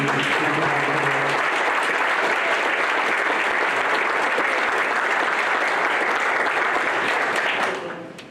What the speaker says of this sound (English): Let's have a round of applause for all the Cincinnati